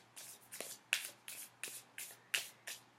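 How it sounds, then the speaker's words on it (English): A deck of tarot cards is riffled and shuffled by hand in a steady series of about eight crisp, close bursts at an even rhythm, quiet with no talk. "continuing to shuffle here on camera."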